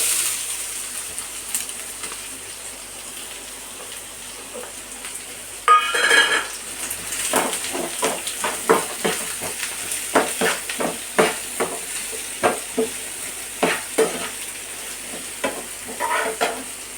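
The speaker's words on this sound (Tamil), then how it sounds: "வெங்காயத்தை வதக்கிக்கிடலாம்" Onions sautéing in a pan after popped mustard seeds for an idli kurma, quiet at first, then a loud sizzle as they go in, followed by a long run of rhythmic stirring scrapes and taps, no voices.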